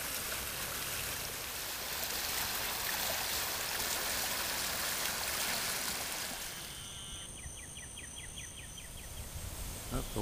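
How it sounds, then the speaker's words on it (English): Storm water from a tropical storm drains out of woods onto a flooded road, a steady broad rushing wash that later eases under chirping insects. "This is our woods draining out onto the road."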